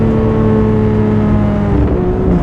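A Porsche 911 GT3 RS of the 991 generation pulls hard in second gear, its exhaust roaring loud and close with a continuous rising engine note and no voices over it.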